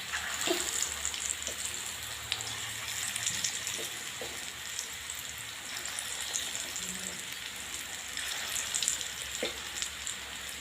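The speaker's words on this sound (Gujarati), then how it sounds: "હું હાથથી જ મૂકું છું તેલના અંદર ભજીયા" Green corn bhajiya frying in hot oil, a steady close sizzle with crackling bubbles running the whole time and a few soft clinks, no voices.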